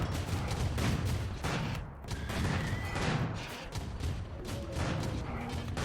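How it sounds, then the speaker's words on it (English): Turrets blow up one after another in RimWorld, a steady barrage of muffled blasts and crashing impacts, fairly quiet and continuous across the stretch. "a lot of these turrets are blowing up"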